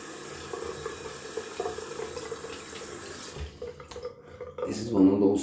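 A tap runs into a sink while shaving soap is rinsed off, steady splashing water close by that cuts briefly before louder splashing returns, with faint talk at times.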